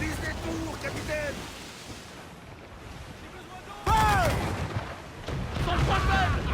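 Ship cannon fire aimed at fort towers during a naval battle in Assassin's Creed IV, with a loud booming blast that cuts in sharply amid rolling sea and battle noise, under shouted crew voices.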